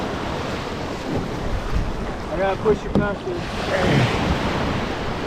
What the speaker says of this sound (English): I feel like the waves are too strong.